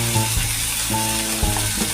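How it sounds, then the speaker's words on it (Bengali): Ginger and garlic paste frying in a pan, a loud, steady close sizzle with a few scraping stir strokes and a low tonal hum running underneath, no voices. "এবার আদা রসুনে যতক্ষণ না কাঁচা গন্ধ যাচ্ছে ততক্ষণ কিন্তু আমি মশলাটাকে ভাজবো"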